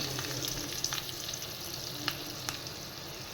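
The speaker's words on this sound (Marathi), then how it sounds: "आणि मस्त अशी फोडणी आपण तयार करून घेतोय" Steady sizzling of asafoetida and curry leaves frying in hot oil as a tempering, with a few small pops and crackles over a constant hiss.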